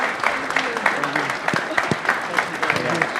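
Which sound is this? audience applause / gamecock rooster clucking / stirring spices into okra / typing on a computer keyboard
audience applause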